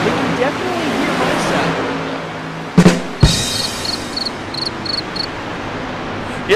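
Cricket chirps played from a soundboard during a live sim-racing stream, steady and moderately loud with a few sharp clicks partway through.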